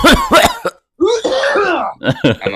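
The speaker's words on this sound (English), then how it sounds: "I have a bad cough, so give me 1 second." A few harsh coughs from a bad cough close by, followed by a longer rasping throat sound and more short coughs, with no talking.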